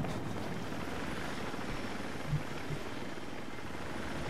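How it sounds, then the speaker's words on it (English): Helicopter flying in the video game Battlefield 4, a steady broad rotor and engine drone heard throughout at moderate level, with a few faint low thumps and no talk. "What's a bet that helicopter will get blown up?"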